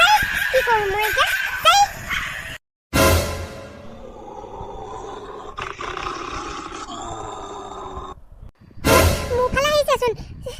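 Several dogs in a scary confrontation bark, growl and whimper loudly, with roaring, snarling bursts separated by brief silences and a whining stretch in between.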